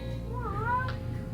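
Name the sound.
cat meowing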